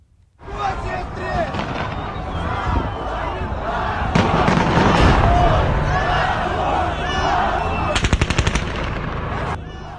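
Rapid gunfire rattles in repeated bursts through the roar of a large crowd gathered in wartime Ukraine during the Russian invasion, with a sharp volley of quick shots near the end and voices throughout.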